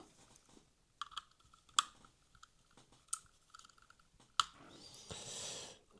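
Small clicks and taps from working loose the parts of a Hornby Class B12 model locomotive, including a glued-on coupling and nearby screws, with a few sharp isolated snaps and a brief scraping rustle near the end.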